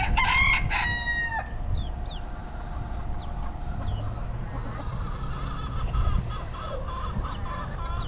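Roosters in the Florida Keys crow and chase hens: one loud, drawn-out crow opens, followed by scattered clucks, squawks and smaller calls over steady outdoor background noise.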